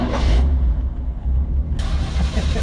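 A 1950 Dodge B2B rat rod truck, chopped, channeled and lowered, fires up and runs close by, a loud low engine rumble that catches and keeps running with no talk.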